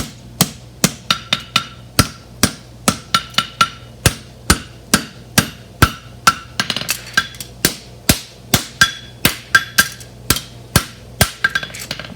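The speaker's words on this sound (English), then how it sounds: "I'm hitting the outside edge and I'm just flattening on the outside edge" A hammer beats the outside edge of a bar horseshoe flat, about forty sharp ringing metal strikes in a steady, quick rhythm, loud and close with short pauses, no voices.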